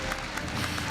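Audience applause at a Korea University freshman entrance ceremony, a dense steady patter of many hands clapping filling the hall without a break.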